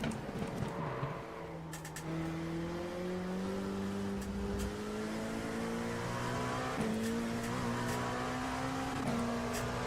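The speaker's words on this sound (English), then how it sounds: "This car is an absolute brute." Race car engine from a football career-mode video game, a loud sustained drone that climbs steadily in pitch across several upshifts, with tire squeal and skidding mixed in, no talking.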